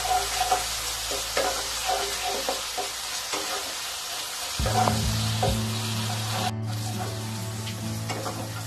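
Mustard paste sizzles in a pan with oil and water for a Bengali rui fish curry, a steady loud frying hiss with a spoon stirring and scraping, a low hum entering midway.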